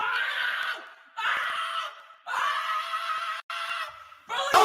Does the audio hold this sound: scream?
yes